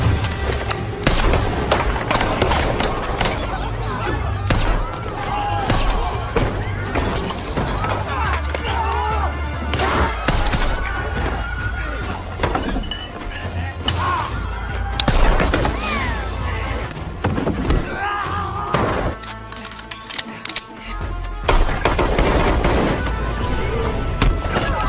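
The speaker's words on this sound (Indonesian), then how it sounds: "Dan dari sini, aksi baku tembak pun tak terelakkan" Dense gunfire from a gunfight scene in the 2021 action film Kate: rapid bursts of shots, booms and crashing impacts fill the whole stretch loudly, with a brief lull near the end before the shooting resumes.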